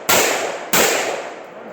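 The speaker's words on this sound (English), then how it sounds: "Let's try these rounds out." Two loud, close handgun shots about 0.7 seconds apart, the last rounds fired in a close-quarters combat reload drill, each a sharp crack with a ringing tail.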